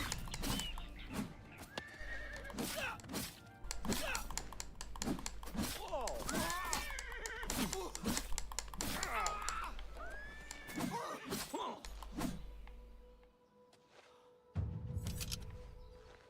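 A horse neighs and whinnies repeatedly amid clip-clopping hooves in the video game Oblivion, with several rising calls over a steady low rumble and a brief lull near the end.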